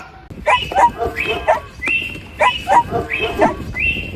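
Stray dogs yelp and bark close by in quick bursts, a few yips at a time separated by short gaps, loud and repeating throughout.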